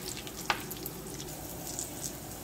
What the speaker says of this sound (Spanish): También los voy a sofreír ligeramente.